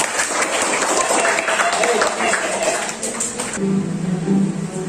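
Students clap together in a classroom during a lesson on Islamic history, a dense burst of applause for several seconds that stops abruptly, followed by murmuring voices.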